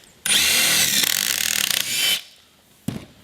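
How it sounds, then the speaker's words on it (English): A power drill bores steadily into wood for about two seconds, drilling an angled pocket hole with a Kreg jig, loud and close, then winds down; a short knock follows after a brief pause. "let the drill hang out, but it's gonna pre-drill the angle"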